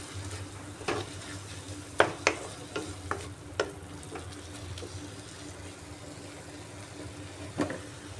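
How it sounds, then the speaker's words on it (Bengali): Ground cumin and coriander sauté in a pan for a masoor dal with egg, making a soft, quiet sizzle with scattered clinks and scrapes of stirring; no voices. "আবারও ভালো করে কষিয়ে নিচ্ছি"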